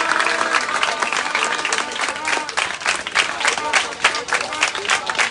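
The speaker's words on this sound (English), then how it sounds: "give yourself a big hand clap" Schoolchildren at an elementary and junior high school program burst into loud, sustained applause, many hands clapping at once in a dense crowd, with voices mixed in among the claps.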